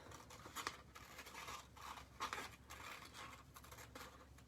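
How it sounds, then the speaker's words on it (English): A few crisp snips of scissors cutting paper, close by, spaced irregularly over a quiet background. "I'm just going to take it with two scissors"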